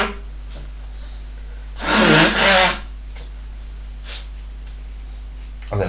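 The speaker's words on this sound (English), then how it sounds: "first of all I'm going to blow my nose" A person blows their nose in one loud, wet double burst midway, with quiet room noise before and after.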